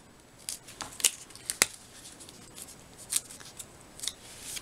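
Scissors snipping paper and foam tape for a scrapbook layout, a handful of crisp, close cuts scattered irregularly over a quiet background with light paper rustling.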